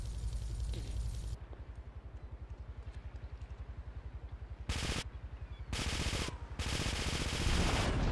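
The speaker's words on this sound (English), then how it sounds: "I have the M16 now, and the M16 is a very powerful weapon." M16 gunfire in GTA 3 The Definitive Edition, a long rapid automatic burst with steady rhythm under continuous game noise, followed by louder blasts and roaring bursts near the end.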